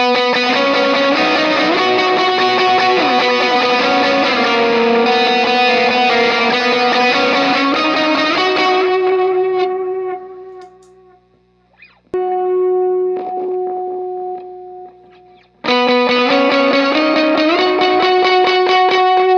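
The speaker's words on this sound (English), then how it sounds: "could hit the micro pog. It adds a kind of a high octave that can make me pop out of the mix a little more." An electric guitar played through a worship pedalboard with a Micro POG adding a high octave above each note rings out in sustained, shimmering chords, breaks off briefly near the middle, then returns strongly.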